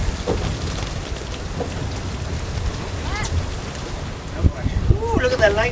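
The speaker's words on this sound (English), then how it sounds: "ooh, look at that lightning there, and here comes the rain" Heavy rain pours during a summer thunderstorm on a boat anchored at sea, a dense steady hiss with scattered drops striking nearby surfaces, while voices exclaim near the end.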